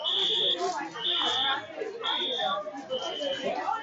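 A building fire alarm sounds in repeated loud electronic buzzes, about one a second with short gaps between them, while a crowd of people chatters underneath.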